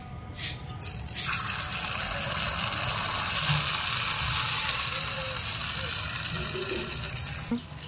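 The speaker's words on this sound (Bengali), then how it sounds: "বন্ধুরা তেল গরম হয়ে গেছে, একটা পিঠা দিয়ে দেবো।" Miniature poa pitha dropped into hot oil, followed by a steady close hiss and sizzle of frying that continues evenly throughout, without talk.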